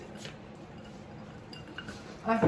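Glasses clink in a toast at a reunion, several light bright taps near the end after quiet room ambience, with voices nearby.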